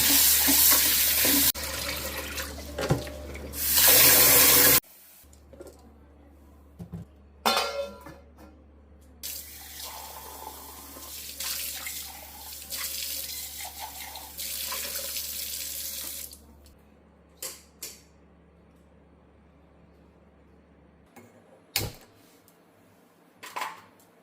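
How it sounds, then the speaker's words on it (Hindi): Water runs from a kitchen tap into a sink, filling it up for soaking food overnight: a loud rushing start, then a steadier flow with clinks and handling noises, and a few sharp knocks near the end. "अब इसमें पूरा पानी फुल करके रख रही हूँ"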